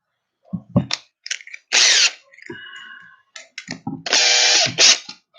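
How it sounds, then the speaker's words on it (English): A cordless drill with its clutch set to zero drives small set screws into guitar tuners with a little metal Phillips bit; several short whirring bursts of varying length, close and fairly loud, with no talk. "Definitely turn the clutch down to 0 on my drill."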